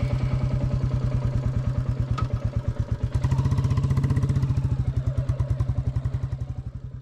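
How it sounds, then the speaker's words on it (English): A Royal Enfield Classic 350 motorcycle rides along a road, its single-cylinder engine thumping in a steady, loud, close rhythm that swells as it pulls harder, then eases off again, with no talking. "get back on the bike, get some wheels rolling, get some miles in again on the way home"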